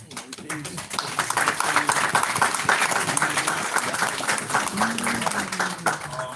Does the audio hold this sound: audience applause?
yes